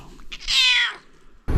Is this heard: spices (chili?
no